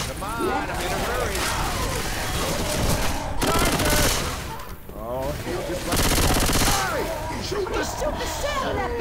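Rapid bursts of automatic gunfire from the video game Left 4 Dead 2 rattle loudly in several long volleys with brief gaps, mixed with in-game voices and shouting.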